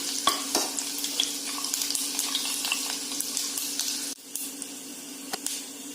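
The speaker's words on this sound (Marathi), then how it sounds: "लसूण चांगला लालसर होऊ द्यायचा त्या फोडणीमध्ये, मीडियम गॅसवरतीच आपल्याला ही फोडणी करायची आहे" Garlic tempering sizzles steadily in hot oil over a medium gas flame for Konkani-style sweet dal, with light spoon scrapes and clicks over the constant frying hiss.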